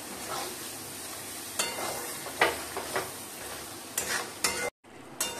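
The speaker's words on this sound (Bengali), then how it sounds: "এবার মশলাটা আমি ভালো করে কষাবো।" Salt, turmeric, cumin powder and whole chillies sautéed in oil in a pan, a steady fry sizzle with intermittent scraping stirs and clinks of the spatula, ending in a brief silence before stirring resumes.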